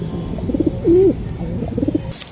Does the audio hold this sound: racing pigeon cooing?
yes